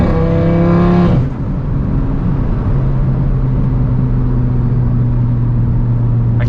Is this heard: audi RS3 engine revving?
yes